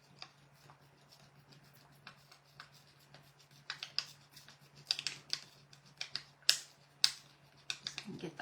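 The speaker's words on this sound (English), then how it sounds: "I just took my scissors to get that really burnished in there to that corner" Scissors rubbed and pressed against paper in a corner during a decoupage project, giving soft scattered scraping ticks and taps that grow busier and a little louder toward the end, up close over a low steady hum.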